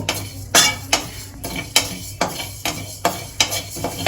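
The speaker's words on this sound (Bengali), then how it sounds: "মশলাগুলো দিয়ে আমি এটা একটু ভেজে নেব, হালকা লাল লাল করে ভেজে নেব।" A metal spoon scrapes and clanks rhythmically against a hot wok as whole spices are dry-roasted, with about ten sharp strokes over four seconds, close and fairly loud, and no talking.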